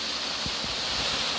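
Steady broadband rush of water from the three-tiered Bidadari waterfall at Panggungrejo, Blitar, a continuous even roar with no voices.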